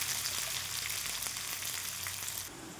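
Dal sizzles in a hot pan with garlic paste and curry leaves, a dense, steady frying crackle close to the listener, continuous and fairly loud, easing slightly just before it ends, with no one talking.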